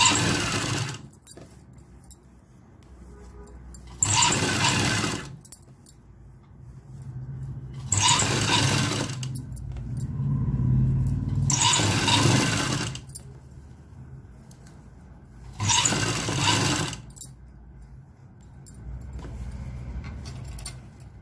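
A sewing machine stitches a folded round-neck hem in four separate bursts of steady, rapid mechanical whirring, each lasting a second or two, with quiet pauses between them.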